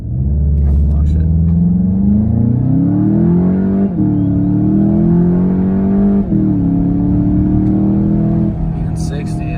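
A Volkswagen car revs and then launches hard, its engine loud and close as the pitch climbs through gear changes with short dips between pulls.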